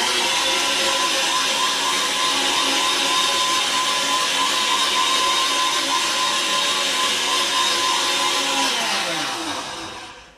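A Bosch MMB 6174S blender runs at maximum speed with soapy water inside, giving a loud, steady whir that holds for about nine seconds before the motor winds down at the end.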